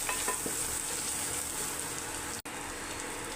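Prawn masala sizzles steadily in a pan as chilli and coriander powder are stirred in, with a constant close frying hiss and faint scraping of the stir.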